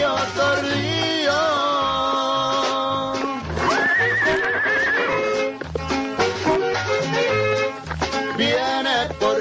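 A horse whinnies loudly in a Mexican radio drama about a mounted bandit, its long wavering neigh rising and falling over a dense musical backing, with faint hoof-like clops and no talk.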